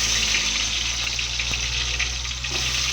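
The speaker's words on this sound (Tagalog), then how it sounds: "Ayan, makulo na." A casserole pot of pork leg humba with bay leaves bubbles and simmers steadily up close, a continuous hissing, gurgling texture with a low hum underneath and no talking.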